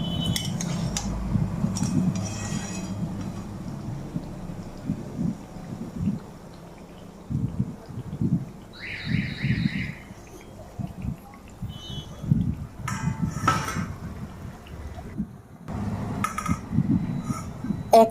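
Fried raw banana pieces lifted out of a pan of oil, with repeated clinks and scrapes of a metal utensil against the pan in irregular clusters over a low kitchen rumble.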